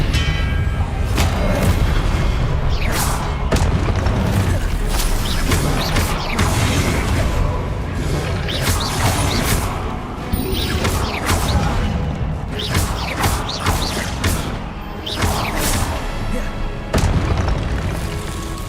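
Repeated Confringo blasting-curse explosions in Hogwarts Legacy, loud booming thuds and crashes recurring every few seconds over dense combat noise, with shouted spell incantations in between.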